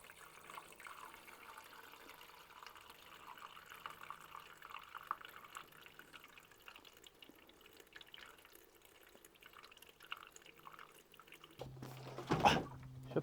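Plain water is poured into the radiator of an old backhoe being restored, giving a faint, steady trickle that runs for several seconds before a short, louder clunk near the end.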